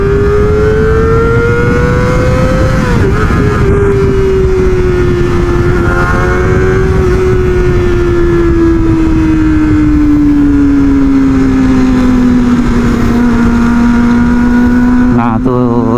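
A Kawasaki ZX25R motorcycle engine drones loud and close while riding on an empty road, holding a high steady whine that rises, then eases lower through a gear change, under wind noise.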